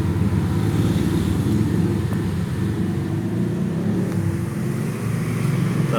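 A 2016 Honda BR-V 1.5-litre engine fitted with an HHO hydrogen generator holds a steady, loud, low rumbling drone with the throttle opened, sounding continuous and close with no talk over it.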